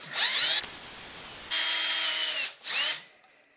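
A power drill fitted with a 3/8 inch bit, drilling a hole for a Schrader valve, whines loudly in two bursts with a pitch-shifting spin-down between them, then stops.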